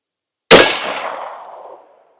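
A Glock 34 pistol fires a single shot over a chronograph: one sharp, loud report that cracks out at once and then rings down through a fading tail over about a second and a half.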